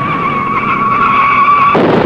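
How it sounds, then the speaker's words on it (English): A race car spins out at the 1960 Indianapolis 500, its tires squealing in one loud, sustained high screech for nearly two seconds before cutting off abruptly into rougher engine and track noise. "Don Branson spins"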